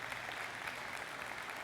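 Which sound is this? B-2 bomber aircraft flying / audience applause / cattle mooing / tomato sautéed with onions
audience applause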